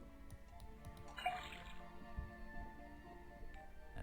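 Faint liquid trickling and dripping as a sample is poured from a faucet into a cauldron in a video game, soft sloshing sounds over a quiet background.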